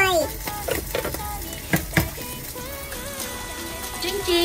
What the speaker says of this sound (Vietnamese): Trứng chiên ốp la của chồng tôi